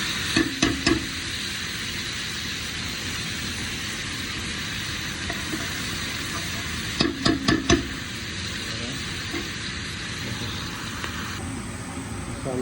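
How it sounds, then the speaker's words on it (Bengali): Ginger-garlic paste sizzles steadily in hot oil in a pot for a meat and turnip dish, with occasional sharp clinks of a spoon against the pan at close range. "দিলাম তেলটা, আমার হাঁটি গরম আছে। দিলাম আদা রসুন, 2 চামচ দিলাম আদা রসুন।"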